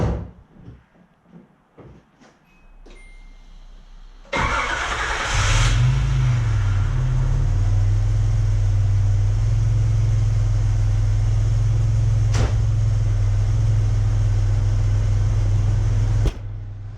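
A Nissan 300ZX Z31 turbo engine with freshly rebuilt fuel injectors cranks briefly, catches and settles into a loud, steady idle that runs close up for over ten seconds after a few clicks and clunks.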